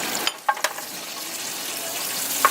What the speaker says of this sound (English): frying with the garlic